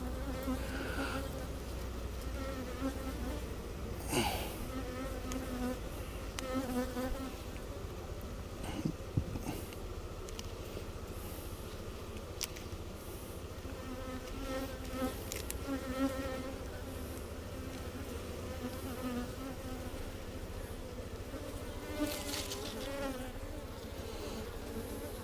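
Honey bees at a Texas beehive, a steady dense buzz of many insects droning continuously nearby, with occasional louder passes as single bees fly close.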